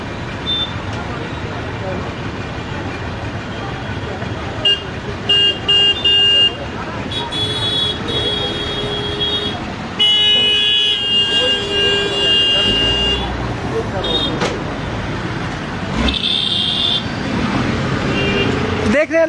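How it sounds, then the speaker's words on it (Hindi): A traffic jam with long queues of vehicles in Siliguri: car horns toot and blare repeatedly over a rumbling roadway din, with someone talking throughout. "देख रहे हैं लगातार आप ये ट्रैफिक जाम की स्थिति, वाहनों की लंबी लंबी कतार यहाँ पर लगी हुई है।"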